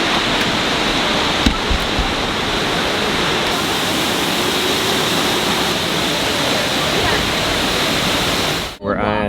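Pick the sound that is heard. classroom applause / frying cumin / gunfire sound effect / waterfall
waterfall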